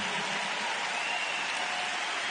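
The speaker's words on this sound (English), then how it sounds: "I have yet to personally applaud you while I've been on this stage, but I want to take the time to do so" Sustained applause from a large crowd at a corporate associates celebration, a broad even wash of clapping that holds steady without breaks for a couple of seconds.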